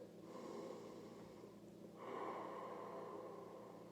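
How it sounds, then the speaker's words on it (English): Slow, deep breathing while holding a lower-back stretch on a mat at home, a long soft inhale followed by a fuller, steady exhale, quiet and close with no talking. "I'm going to have 10 nice deep breaths"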